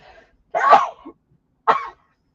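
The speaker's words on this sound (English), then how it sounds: "I got to sneeze." Two sneezes from one person close by, a strong burst followed about a second later by a shorter, sharper one, with silence around them.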